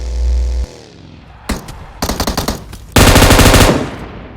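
Loud, rapid bursts of automatic gunfire in a video game rattle in close succession, ending in a sustained volley that fades slightly.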